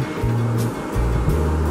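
The Elk River runs fast on a spring day with a steady rushing roar. Low engine-like drones come and go beneath it, and no voices are heard.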